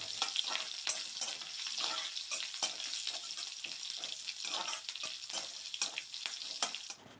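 Cinnamon, green chillies, curry leaves and crushed garlic frying in oil for a tomato curry, a steady, hissing sizzle with soft repeated stirring scrapes, close and continuous, cutting off at the end, no talking.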